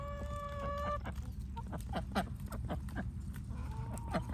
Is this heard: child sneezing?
no